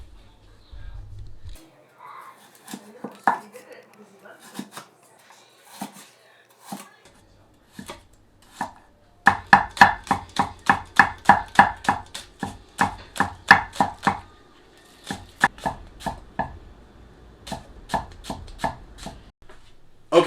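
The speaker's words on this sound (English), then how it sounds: "I have to cut up some carrots, some green onions" A knife chops carrots and green onions in quick, close, rhythmic bursts of crisp taps, pausing between runs and then picking up a fast steady cadence again.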